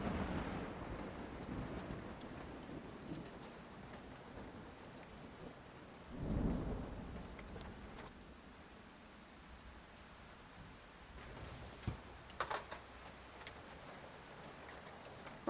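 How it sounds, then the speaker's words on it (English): A massive thunderstorm outside a van on an open-road trip, with steady heavy rain hissing throughout, a deep rolling thunder boom midway and sharper cracks later, all without talk. "Thunder, massive storm."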